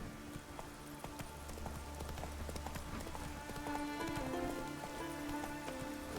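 Clip-clop of the horse Roach's hooves in The Witcher 3, a steady trotting rhythm of close hoofbeats over a rain-like ambient wash with game music underneath.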